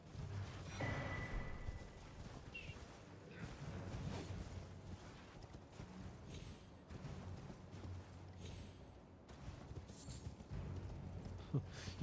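Horse hooves in the Elden Ring video game, a faint, quiet clip-clop of riding over a low rumbling backdrop, with occasional swishes from swinging attacks.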